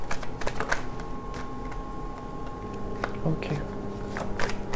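Tarot and oracle cards being handled and shuffled in a rapid run of soft flicks and slides, close up under a continuous low hum, with a brief spoken word.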